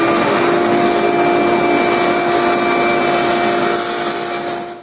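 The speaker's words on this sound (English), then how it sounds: "I'm going to cut off 5/32 of an inch off this edge, move the fence over, cut off another" A table saw rips thin 5/32-inch inlay strips off the edge of a maple board, a steady loud whirring cut with rasping wood noise that runs continuously and starts to fade at the end.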